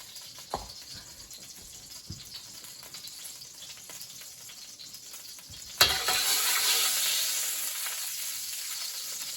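Chicken wings drop into hot canola oil in a wok, a sharp burst at the moment they go in that turns into a loud, steady hissing sizzle, after quiet stirring clatter earlier.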